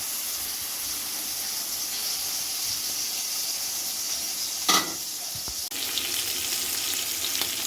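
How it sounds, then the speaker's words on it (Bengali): Salt-and-turmeric-marinated prawns fry in hot oil with a steady, close sizzling hiss, broken by a brief clatter near the middle and a sharp stir or scrape shortly after, then the spitting continues. "গরম হয়ে গেছে, নুন হলুদ মাখিয়ে রাখা চিংড়ি মাছগুলো ভেজে নেব।"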